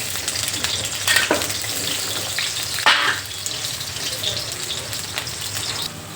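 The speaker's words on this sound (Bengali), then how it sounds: "আলুগুলো ভেজে নেবো তেলটা গরম হয়ে গিয়েছে" Potatoes frying in hot oil in a kadai, a steady crackling sizzle up close with a few louder stirring scrapes and splashes, then easing off toward the end.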